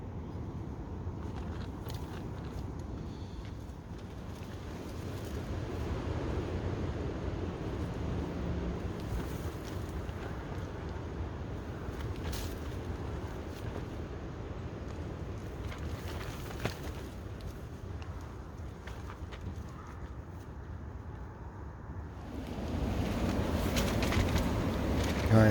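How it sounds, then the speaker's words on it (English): Strong wind roars and buffets around a tarp tent during a snowstorm at minus 8 C, a continuous rushing noise with gusts, growing louder at the end. "As you can hear, the wind's got up quite a bit."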